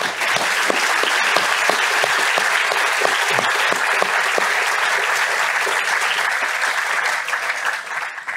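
Audience applause at the opening of an academic year at IHE Delft, a dense, sustained clapping from a large crowd that holds steady and tapers slightly at the end.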